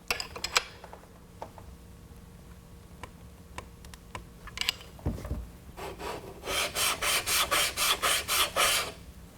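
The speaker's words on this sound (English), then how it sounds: "get it so we're lapping in the very bottom of the ring" Steel rifle scope rings being lapped with a lapping bar, a close, dry rhythmic rasping of metal on metal, a few scattered scrapes and ticks followed by a steady run of repeated strokes.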